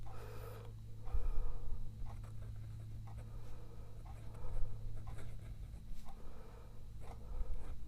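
A Pilot Custom Kaede maple fountain pen with a soft, springy nib, held upside down, scratches faintly across paper in short repeated strokes with pauses, close and quiet over a low background hum.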